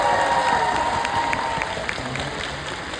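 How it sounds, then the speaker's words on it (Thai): Audience applause at a Thai gathering, a dense burst of clapping with some cheering that fades gradually, while a voice or tonal sound lingers faintly in the first half. "ขอเสียงปรบมือนิดนึงได้ไหมครับ"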